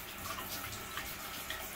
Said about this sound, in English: Harry, mother of God, this water's so hot.